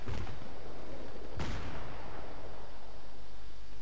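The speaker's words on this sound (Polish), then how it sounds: "Granaty wybuchają." In the video game Battlefield 3, a single loud, sharp grenade blast booms out over constant heavy rumbling and crackling, with no talking.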